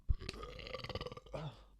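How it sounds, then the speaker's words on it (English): A single loud, drawn-out burp lasting well over a second, close up, with rumbling low tones and a wet opening pop, heard alone without talk. "burp."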